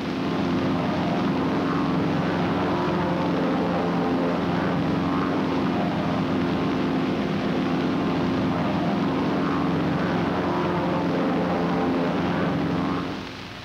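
Propeller aircraft fly in a four-plane formation, their steady droning engines holding a continuous, even roar throughout with a strong low hum and no voices.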